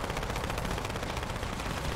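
Rapid automatic gunfire in a Halo video game, a fast, loud, unbroken stream of close shots with rhythmic pulsing and no talking.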